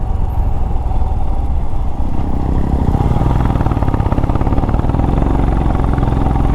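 A Swift car descends the winding road from Ponmudi toward Tenkasi, its engine and road rumble droning steadily and loudly throughout, with a denser, grittier texture building partway through.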